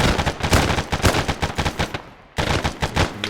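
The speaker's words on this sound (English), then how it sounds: "This gun sounds weird." Rapid bursts of automatic gunfire from a rifle in the military video game ArmA, loud and close, with a brief pause before the firing resumes.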